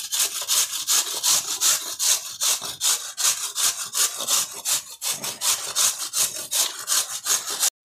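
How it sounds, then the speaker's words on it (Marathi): Carrots being grated by hand on a metal grater for gajar ka halwa, a loud, steady back-and-forth rasping stroke repeated about three times a second, close and alone without speech. "आता आपण ही गाजर खिसण्यासाठी घेऊया। अशा पद्धतीने खिसून घ्यायची गाजर सर्व।"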